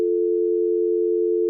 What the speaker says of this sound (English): at that time we hear the old-fashioned dial tone